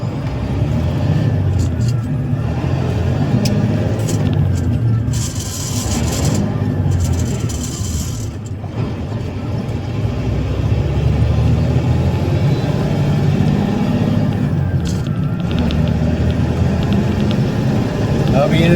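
A concrete mixer truck with a manual gearbox idles and rumbles low and close while being shifted in reverse, engine tone rising and easing between gears, with a brief hiss of air partway through and someone talking over much of it.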